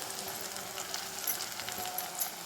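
Turmeric and spice powders sautéing in oil over a medium flame for garlic kuzhambu, a soft continuous sizzle with faint crackles, fairly quiet and steady, with no talking.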